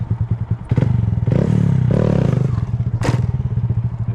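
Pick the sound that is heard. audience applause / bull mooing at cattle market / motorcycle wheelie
motorcycle wheelie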